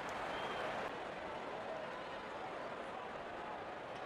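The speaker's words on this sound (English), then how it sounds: "Crowd on their feet to cheer the moment." A stadium crowd cheering and applauding in the cricket video game Real Cricket 24, a steady dense roar that stays even throughout.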